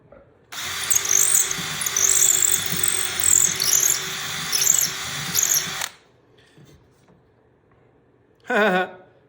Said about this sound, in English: we need to have a 5/16 drill bit to go in there